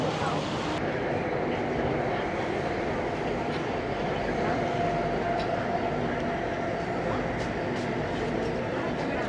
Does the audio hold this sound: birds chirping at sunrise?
no